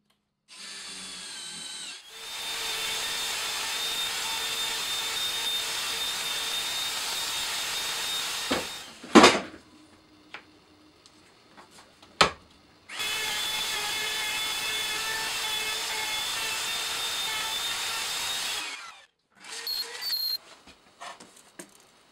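A wood router cuts a mortise in the timber of a wheeled fire pit base, in two long, loud, steady whining runs of several seconds each, separated by a pause with clunks and a brief burst.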